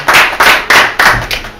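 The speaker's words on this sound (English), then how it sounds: "Let's give it a round of applause for Fume." An audience breaks into applause, a short burst of loud, close, rhythmic clapping lasting under two seconds.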